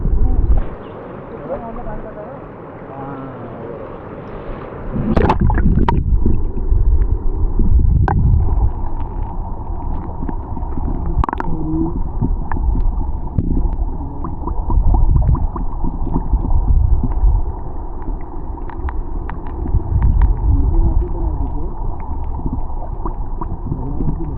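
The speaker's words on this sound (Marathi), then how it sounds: "तिकडे पाण्याची काय उकळी लागली ती, बुडबुडे येत आहेत ते" River water bubbles and gurgles up in a village stream in the Konkan, a loud, churning rush that swells after a quieter start, with voices talking over it.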